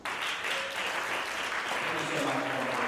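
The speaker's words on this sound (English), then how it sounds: "Let's give him a round of applause." Convention audience applauding steadily at a political party gathering, a dense continuous wash of clapping with a faint tonal voice or whistle rising through it.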